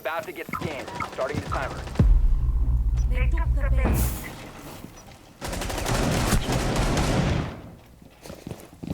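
Gunfire bursts in a competitive shooter video game, rapid loud volleys in two stretches with a quieter gap between, mixed with game noise and a voice talking at times.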